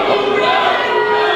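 Wrestling video game arena crowd reacting unhappily to a time limit draw, a dense sustained roar of many voices, loud and steady throughout with no pauses.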